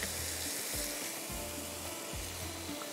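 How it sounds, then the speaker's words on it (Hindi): Onion-tomato masala for achari aloo sizzles and fries steadily in a pan, with a few scraping stirs of a spoon cutting through the continuous crackle, close and fairly loud. "इसको हम भूनेंगे मसाले को।"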